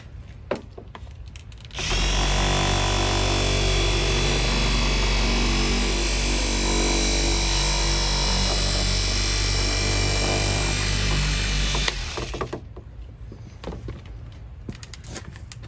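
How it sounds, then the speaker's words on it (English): A dual action car polisher working on scratched, clouded clear coat runs steadily at a loud, even whine for about ten seconds, starting abruptly and cutting off, with quieter handling noises before and after. "Get a dual action polisher."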